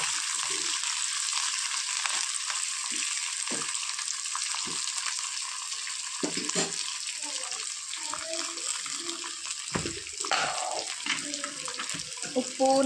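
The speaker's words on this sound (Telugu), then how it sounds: "కొంచెం తాలింపు వేగిన తర్వాత ఉల్లిపాయ, అల్లం, పచ్చిమిర్చి వేసి వేయించాలండి" Onion, ginger and green chillies fry in tempering oil for upma, giving a constant close sizzle and hiss that runs the whole time, with a voice speaking over it.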